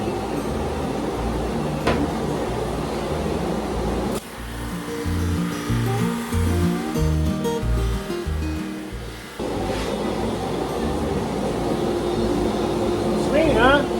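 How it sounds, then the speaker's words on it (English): A drum sander with 80 grit abrading a black walnut table, a loud continuous roar and whir that drops in pitch into a lower grinding hum for several seconds mid-clip before returning, with speech faintly mixed in. "Doing it on a drum sander with 80 grit."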